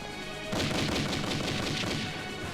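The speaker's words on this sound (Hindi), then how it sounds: "जवान, मशीन गन को मैन करो।" Rapid machine gun fire from a Hindi war drama crackles in a dense, continuous burst after a brief lead-in, loud and close.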